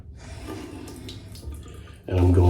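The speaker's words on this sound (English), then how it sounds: "just run it under some near hot water" Near-hot water gushing from a tap over a shaving brush, a quiet hiss for most of the clip that swells into a loud, full splashing stream in the final half second.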